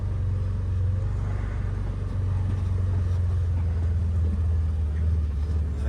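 A Can-Am Defender UTV on oversized tires drives over rough backyard ground, giving a steady, close, low engine rumble that holds at an even level throughout with no talk.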